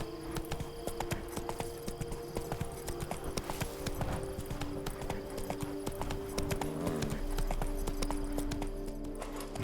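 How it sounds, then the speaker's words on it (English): Horse hooves clip-clop at a steady gallop in The Witcher 3, a continuous rhythmic pounding close by with game music and ambience underneath, loud throughout. "Not so fast, Roach."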